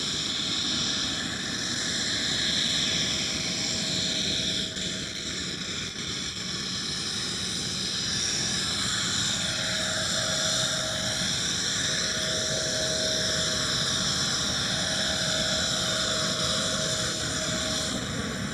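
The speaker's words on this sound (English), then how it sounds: "Mitsubishi CRJ from SAS with a 737 of KLM right behind it" Jet airliners at Schiphol Amsterdam, an SAS Mitsubishi CRJ followed closely by a KLM Boeing 737, give a steady, broad engine roar with a faint whine, continuous and fairly distant throughout.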